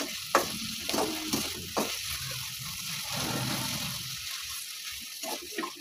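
Onions sizzle and fry in mutton fat and oil in a pan, a steady hiss broken by occasional stirring clatter, close and fairly quiet.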